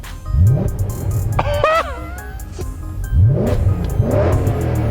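A 2001 BMW E39 M5 engine revs hard under acceleration in two strong pulls with rising pitch, loud and close, with a whoop from inside the car between them.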